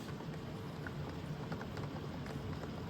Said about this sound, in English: that rain, listen to it